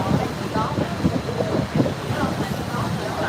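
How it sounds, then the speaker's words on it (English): Gusty wind buffets a phone microphone on a street in Vietnam's Old Quarter at night, a loud rumbling roar with someone talking over it. "It's kind of windy now."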